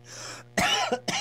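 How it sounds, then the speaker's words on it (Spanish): A person coughs in a few harsh, close bursts: one longer rasping cough followed by two short, sharp ones, loud and alone with no talk. "empieza el fresco y empieza uno con la tos"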